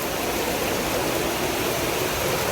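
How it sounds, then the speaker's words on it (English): Heavy Florida rainy-season downpour pours in a dense, steady wash of noise, close and loud, with water spilling over house gutters. "it's raining so hard that water is coming over my gutters right now"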